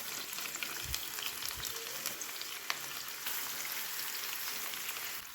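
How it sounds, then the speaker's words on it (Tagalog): Marinated chicken fries with onion in hot oil, giving a steady, close, hissing crackle like light rain, with a few soft bumps near the start and no talk. "Next, i-add naman natin ang marinated chicken."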